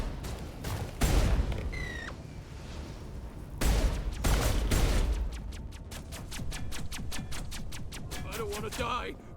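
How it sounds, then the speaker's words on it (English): Bursts of high explosive rounds fire in Mass Effect 1 (Legendary Edition, modded), with two heavy volleys and a run of rapid sharp shots toward the end, loud and up close, with a voice talking over parts. "Those high explosive rounds are nice."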